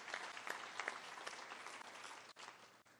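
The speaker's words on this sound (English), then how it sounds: "Round of applause for them, please." An audience at a swearing-in ceremony claps in sustained applause, a steady crowd patter at moderate distance that tails off near the end.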